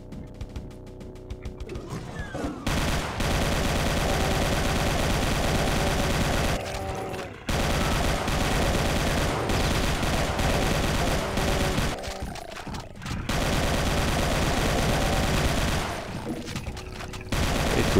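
Dense, sustained gunfire from a wide-spread gun in Brutal Doom, played in a Wolfenstein-themed level, roaring almost nonstop in long loud bursts with two short pauses.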